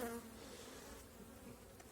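Dense, steady buzzing of many honeybees in a hive, a soft continuous hum with no talking.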